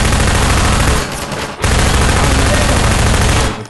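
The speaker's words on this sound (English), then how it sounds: "This is my gun, it's really loud." Rapid, loud automatic gunfire from a weapon in the video game Half-Life 2, a dense continuous burst with a brief pause before firing resumes.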